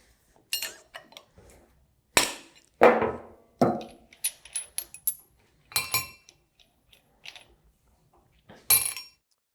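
Metal jam nuts are taken off a Universal 1 pump wet end and set down, making a series of sharp, close metallic clinks and clacks in irregular bursts with short quiet gaps, without talk.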